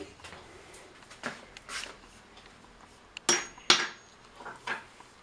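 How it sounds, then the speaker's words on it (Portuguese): Several sharp taps of a hammer on the wood of a bunk bed being assembled ring out at irregular intervals, fairly quiet, with faint handling noises between strikes. "O pai vai dar uma marteladinha."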